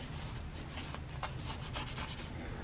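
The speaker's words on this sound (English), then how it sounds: "Scratch it up with some sandpaper." Sandpaper scuffing a metal surface to prepare a rust-out repair, close, short rasping strokes repeated in quick succession, with no one speaking.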